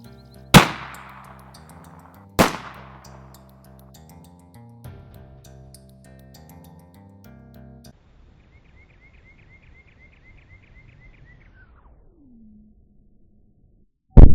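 300 Blackout rifle rounds fired into ballistic gel: two loud sharp reports a couple of seconds apart with ringing decay, a fainter third shot, then quiet electronic tones and another report at the very end.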